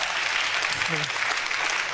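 Steady applause from a crowd fills the clip, with a brief voice rising under the clapping partway through.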